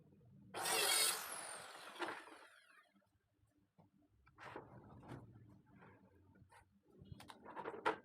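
Wood pieces for a double bed frame are cut to length with a saw, a loud burst of rasping cutting up front followed by quieter knocks and handling clatter of the boards.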